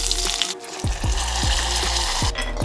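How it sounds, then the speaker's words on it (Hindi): Cumin seeds sizzle in hot ghee for a dal tadka, a bright close hiss of frying with a few stirring scrapes, loud and without talk. "with this I put some जीरा ऑल्सो फॉर द तड़का"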